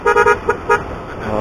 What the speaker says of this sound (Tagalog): Sang busina muna.